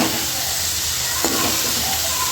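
Onions and tomato sautéing in a pan for dried-fish curry, a loud, continuous hiss and sizzle with one brief knock of a spoon, no voices.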